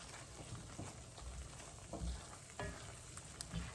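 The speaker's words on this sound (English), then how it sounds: "Stir it around in there real good." Creamy steakhouse spinach seasoned with white pepper and salt is stirred in a pan over medium heat, with a steady soft sizzle and a few scraping knocks of the spoon against the pan.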